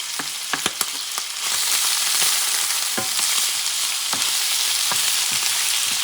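Shrimp and squid fry in a pan for black paella, giving a loud, steady sizzle close up, punctuated by sharp clicks and scrapes as the seafood is stirred and moved around.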